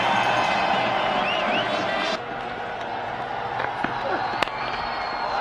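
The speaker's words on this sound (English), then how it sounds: "It's enough to get the crowd roaring." A cricket stadium crowd roars and cheers in a sustained wash of noise during an India match, fading slightly partway through, with sharp claps and a commentator's voice over it.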